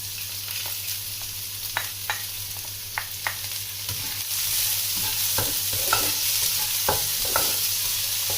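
Garlic and onion browning together in a hot pan, a continuous sizzle that grows louder midway, punctuated by repeated sharp clicks of a utensil stirring and tapping the pan.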